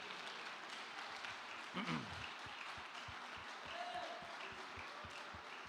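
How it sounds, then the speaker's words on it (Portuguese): A church congregation claps in a steady rhythmic beat, faint and somewhat distant, with a brief voice briefly rising above it. "Aplaude o Senhor."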